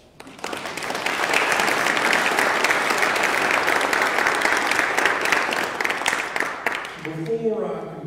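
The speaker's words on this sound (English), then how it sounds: "So give yourselves an applause." A worship service congregation applauds the scouting programs, dense sustained clapping rising quickly and holding steady for several seconds before tapering off, with a voice beginning to speak as it fades.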